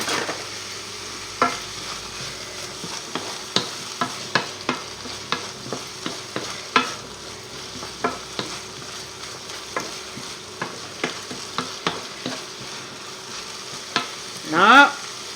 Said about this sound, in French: Ensuite, on ajoute nos pommes de terre.